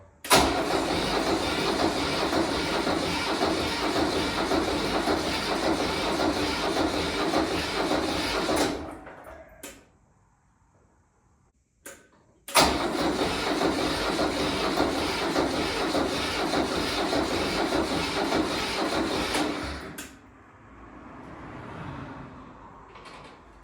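Ford 1700 tractor engine cranking loudly without firing, a steady churning run of about nine seconds, a short pause of near silence, then a second equally long crank that stops, leaving faint background noise.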